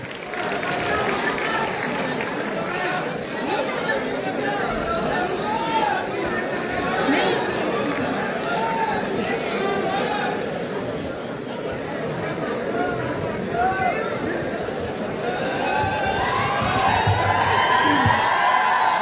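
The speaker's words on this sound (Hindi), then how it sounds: "अगर आपका गीत पहुंचा तो तालियों से बताइएगा एक बार।" A large audience at an all-India poetry gathering in Saifai, a dense wash of clapping and crowd chatter with scattered whoops, continuous and swelling toward the end.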